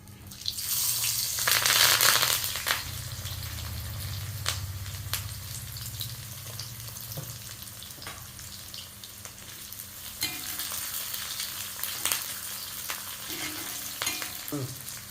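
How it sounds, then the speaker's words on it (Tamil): Sliced onions and fennel seeds fry in hot oil in a pan for a village-style brinjal and mutton kulambu, a loud sizzle that swells near the start, then settles into a steady fry with occasional utensil clicks. "இப்போ சோம்பு பொரிஞ்சிருச்சு. இப்போ வெங்காயம் போடுறேன்."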